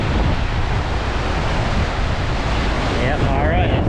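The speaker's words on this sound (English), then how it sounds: "So pretty, pretty raging, strong river." A raging, strong river on Iceland's Laugavegur trail roars in a dense, constant rush, heard from a bridge with wind buffeting the microphone, and a voice comes in faintly near the end.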